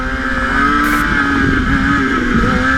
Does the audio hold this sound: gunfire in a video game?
no